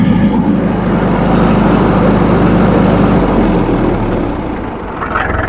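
A Swraj 843 XM tractor, an older blue-bonnet model, runs its engine with a loud, steady, close diesel rumble that holds strong throughout and dips slightly near the end.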